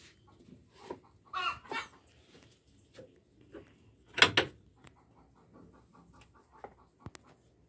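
A rooster in a yard, being fed by a woman, gives scattered clucks and short calls, with one louder burst near the middle and light background noise in between.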